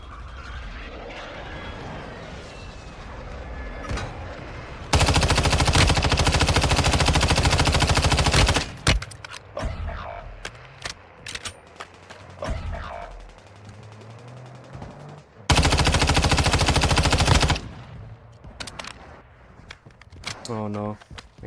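Loud bursts of automatic gunfire in the mobile shooter game Warzone Mobile, two sustained volleys of several seconds each between scattered shots, explosions and game effects, with a player talking throughout.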